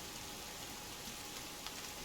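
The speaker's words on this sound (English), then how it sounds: "And now it's raining." Rain falls in the survival video game Sons of the Forest, a soft, even hiss of drops at a low level, steady and unbroken over the brief stretch with no talk.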